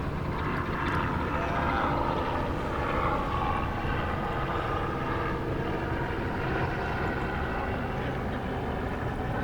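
Helicopters and float planes drone overhead near the water, a continuous loud rumbling engine hum that fills the air without pause.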